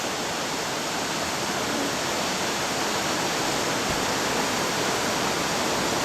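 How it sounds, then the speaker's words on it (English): A very large waterfall in New Zealand gives a loud, unbroken roar of falling water that fills the whole stretch with a dense, steady rush. No voices are heard. "A very large waterfall."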